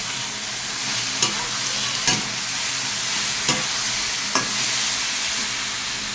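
Ginger, garlic and onion paste with a tomato sizzles in a hot pan, a continuous frying hiss punctuated by four or five sharp spoon knocks against the pan, close and without speech.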